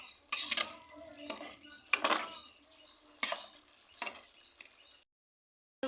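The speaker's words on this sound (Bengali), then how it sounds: "দিয়ে দিলাম দিয়ে ভালো করে নাড়িয়ে নিলাম" Small fried prawns being stirred into a prawn malai curry, the spoon scraping and clinking against the pot in several distinct bursts, close and fairly clear, with no talk.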